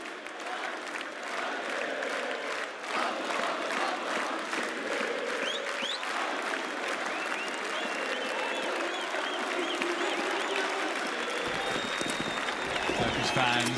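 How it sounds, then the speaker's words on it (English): A Turkish crowd at the BLAST Pro Series Istanbul 2018 esports event cheers and applauds loudly and continuously, a roaring arena wash with commentators' voices heard over it. "It's a football-esque Turkish crowd here."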